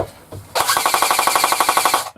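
Airsoft M4 electric gun with a decent motor and gearbox on an 8.4 V battery fires a rapid full-auto burst of about 1.5 seconds, a close, loud, evenly spaced mechanical rattle that cuts off sharply.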